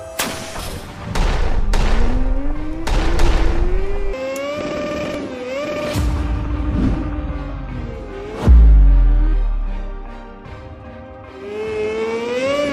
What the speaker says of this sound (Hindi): जग्गी मेहुल पे बॉम्ब्स छोड़ता है।